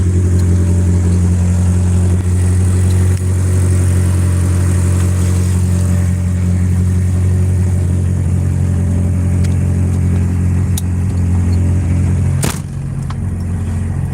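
A Mazda Miata engine runs hard during tuning, a loud, steady low drone with a brief sharp spike near the end and no voices.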